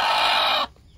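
A brooding native hen near newly hatched chicks gives a single short, close cluck-like call that cuts off abruptly into near silence.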